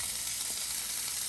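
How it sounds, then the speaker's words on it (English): A frozen pork chop sizzles in a hot frying pan, a loud, steady, close-up hiss of frying with no talk over it. "get this pork chop on the pan, or in the pan. That nice little sizzle."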